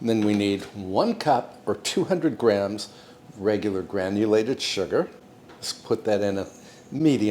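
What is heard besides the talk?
None of the usual background noises is heard.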